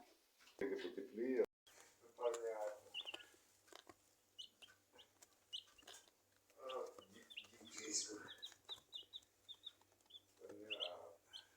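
Chicks in a brooder cage cheep in high, quick bursts close by, scattered through a person talking nearby.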